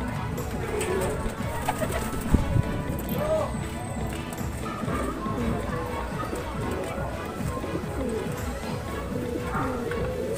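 Breeder pigeons coo steadily and close by in a loft, with soft wing flutters and scuffling, while a person talks over much of it and a few clip-clop-like taps sound.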